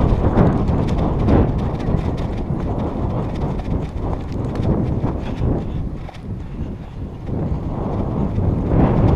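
Horse hooves clip-clop steadily on a street in Pisa. The steady beat is close and loud, mixed with wind buffeting the microphone.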